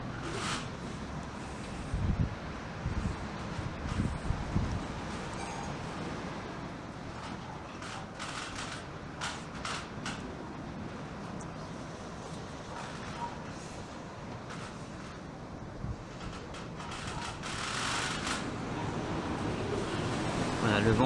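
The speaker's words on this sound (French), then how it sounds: "Et là les rafales de vent deviennent assez fortes." Strong wind gusts of over 70 km/h in Loudéac, Brittany, buffet the microphone in uneven surges, with rushing noise building louder toward the end.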